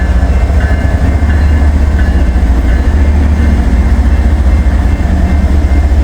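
A loaded coal train rolls past close by in sunshine, a loud, steady rumble of heavy freight cars with continuous wheel and rail noise throughout, no voices.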